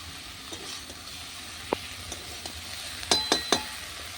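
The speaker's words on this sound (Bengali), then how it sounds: "এবার দেবো বড়ি আর বেগুনগুলো কষ্ট নিয়েছি ভালো করে এবার দেবো ধুয়ে রাখা বেছে মিষ্টি কুমড়ো শাকগুলো" Pumpkin greens, lentil dumplings and eggplant sizzle steadily in a pan over a clay stove. A few soft stirring scrapes are followed by a quick cluster of sharp utensil clinks near the end.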